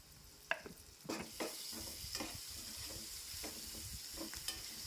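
Ginger paste fries in a pan on a home stove, giving a constant soft sizzle while a spoon stirs it, with scattered scraping and tapping strokes against the pan close by and no talk.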